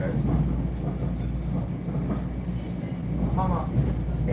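A Metro-North commuter train bound for North White Plains rumbles steadily with a constant low roar and clatter, and faint squeals rise above it, heard from inside the car.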